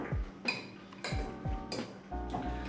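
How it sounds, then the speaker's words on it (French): A spoon stirs an oat, cashew and walnut mixture in a bowl, giving soft scraping sweeps and light clinks against the sides at a steady rhythm, close and fairly quiet. "Hop, je mélange à nouveau le tout."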